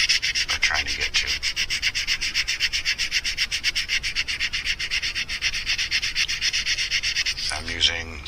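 A lure is sanded with 600 grit sandpaper in quick, close, rhythmic back-and-forth rasping strokes that carry on evenly for several seconds and then stop briefly near the end.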